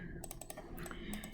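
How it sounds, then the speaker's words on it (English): Fingers typing on a computer keyboard during an intro computer science lesson, a quick uneven run of light key clicks, close and fairly soft, with brief pauses between bursts. "just try typing colors"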